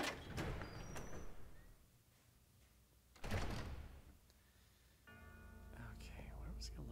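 A laboratory door in the video game Resident Evil Zero slides open with a loud mechanical whoosh midway, framed by dark ambient game sounds and quiet whisper-like noise, followed by a sustained humming tone.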